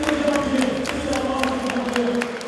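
Applause for the Springfield delegation at an evening cultural festival gathering: steady, dense clapping from an audience runs the whole way through, layered over a sustained tonal hum.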